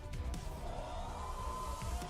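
An arena crowd at the League of Legends Worlds 2018 play-in match between Dire Wolves and Edward Gaming cheers in a steady, broad roar that holds at moderate loudness throughout.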